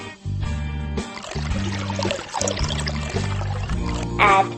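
Water poured into cookie dough ingredients makes a short liquid trickle and splash, heard beneath a steady, looping background melody.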